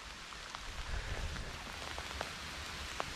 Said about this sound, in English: the rain keeps on pouring down